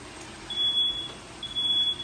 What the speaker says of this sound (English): You never know when the fire alarm's gonna go off.